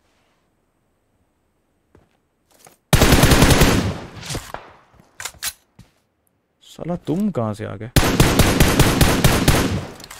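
Bursts of rapid automatic gunfire from PUBG Mobile, loud and close, in two long volleys with scattered single shots between, while someone talks briefly.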